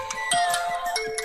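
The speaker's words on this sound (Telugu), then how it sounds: "పొద్దున్నే అన్నయ్య ఫోన్ చేస్తున్నాడేంటి?" A phone rings with an incoming call early in the morning at home, its electronic ringtone pulsing in repeated bursts, close and clear with no talking.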